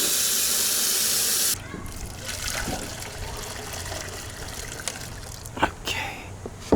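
Water running from a tap in a rusty camper, a loud steady gush that cuts off abruptly, followed by softer trickling and clinks.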